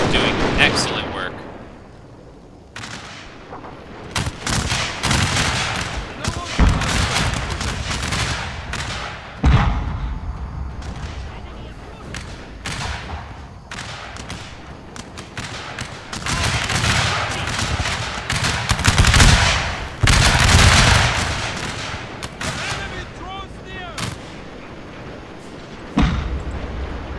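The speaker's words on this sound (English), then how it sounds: "Our Gatling guns are doing excellent work." Gatling gun and cannon fire in Total War: Shogun 2, heavy booms and rattling volleys rolling through a battle din, with a voice talking over the fighting.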